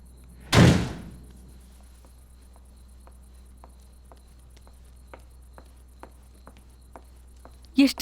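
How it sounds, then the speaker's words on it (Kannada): A door slams shut loudly once near the start, then crickets chirp steadily in a quiet room, with a second brief thud at the end. "ಎಷ್ಟು ಸಾರಿ ಹೇಳಿದೀನಿ ಬಾಗಿಲು ಜೋರಾಗಿ ಹಾಕ್ಬೇಡ ಅಂತ"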